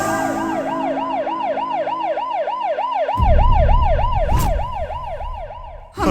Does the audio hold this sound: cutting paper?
no